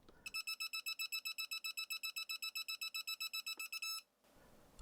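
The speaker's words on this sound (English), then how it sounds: "Now it does beep faster and shows more signal on the live terminal." A TESMEN TN-213 voltage tester at a live terminal gives a fast, steady string of high electronic beeps, about two dozen in quick succession, then stops abruptly, leaving a quiet hiss.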